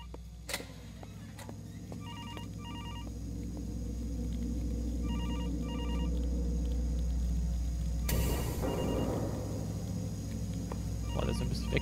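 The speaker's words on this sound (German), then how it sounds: "Telefon?" A telephone rings in the horror game Infliction with short repeated double bursts spaced a few seconds apart. The rings are moderately loud over low rumbling ambience, and a sharp noisy crash cuts in partway through.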